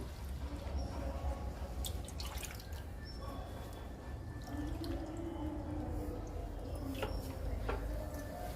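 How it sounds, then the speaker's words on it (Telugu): Liquid fertilizer is poured into potted tulsi plants, giving a continuous trickling and dripping sound with scattered splashes over a low background rumble. "ఈ 2 కుండీల్లో లిక్విడ్ ఇద్దాము."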